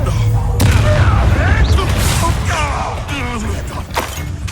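A Confringo blasting curse going off in Hogwarts Legacy combat: a sudden loud blast followed by crackling, sizzling magical debris and chirping spell effects, with a couple of further sharp impacts as the rumble fades over several seconds.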